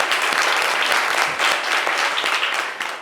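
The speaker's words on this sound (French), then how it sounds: "applaudissez bien fort Igor, s'il vous plaît." An audience claps loudly and continuously, a dense burst of applause that tapers off slightly at the end.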